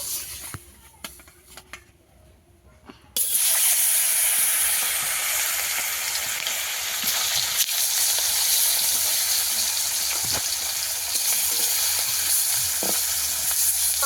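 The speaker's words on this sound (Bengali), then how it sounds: "মাছ লাগিয়ে দেবো উনুনে ভালো করে মাছগুলোকে ভেজে নেব" Fish dropped into hot oil in a pan, a brief quiet lead-in giving way to a loud, sustained hiss and sizzle of frying that continues steadily with occasional small pops and clinks.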